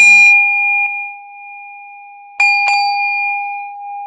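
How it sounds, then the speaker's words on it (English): A meditation bell rings out clearly with a sustained, slowly fading tone, struck again about halfway through so that a second bright ring blooms and decays, alone without talk. "I need this bell to be auditory"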